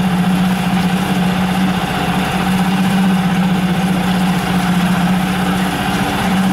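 A new, not yet broken-in CG Marine 6 hp four-stroke outboard motor idles at low throttle, a steady close drone with an even hum that holds without change throughout.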